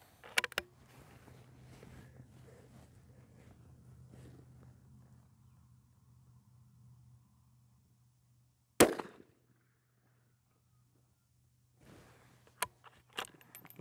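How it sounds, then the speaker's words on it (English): A .22 K Hornet rifle fires at a range: a few sharp, isolated cracks spaced irregularly, one much louder than the rest, over a faint low hum and otherwise quiet surroundings. "I think that's 5 shots."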